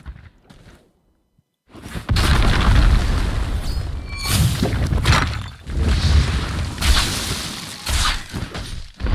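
A frozen boulder spell strikes in the game Spellbreak, heavy booming impacts with shattering crunches and whooshes, several bursts in quick succession following a brief quiet gap.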